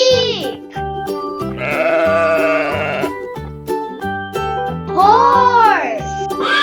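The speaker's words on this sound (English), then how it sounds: "Sheep." A sheep bleats twice, two drawn-out wavering cries separated by a few seconds, heard loud and close over bouncy children's music.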